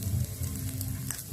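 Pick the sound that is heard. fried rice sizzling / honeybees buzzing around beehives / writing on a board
fried rice sizzling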